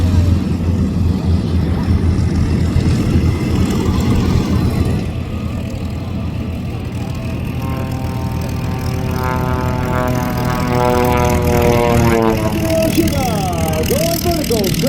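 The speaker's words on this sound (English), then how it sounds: "Here's a thing of beauty taxiing in front of us right now, the P-38 Lightning." A twin-engine P-38 Lightning warbird taxis past at a Southern California airshow, its piston engines droning loudly and steadily nearby, with harmonic tones sweeping in pitch as it moves; a commentator talks over much of it.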